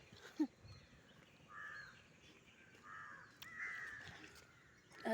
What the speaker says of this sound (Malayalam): കാക്ക ഒരു കൊപ്ര ഇട്ടതേ കക്കാൻ വേണ്ടി വരുവാ രാവിലെ.